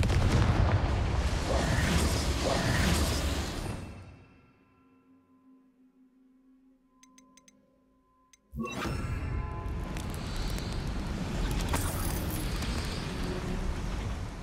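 A Confringo blasting spell in Hogwarts Legacy: a heavy roaring blast that fades to near silence with a faint ringing tone, then a second loud explosive burst that rumbles on.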